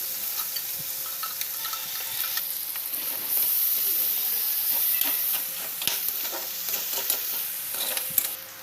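Argentina corned beef being stirred into spaghetti sauce in a pan, with a steady sizzle and hiss under scattered scraping and clinking of a spoon, fairly close and with no talking.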